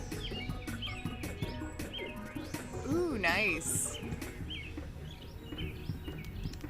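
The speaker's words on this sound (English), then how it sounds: "The birds are really noisy behind me" Birds chirp and tweet repeatedly in the background outdoors while a person talks briefly nearby.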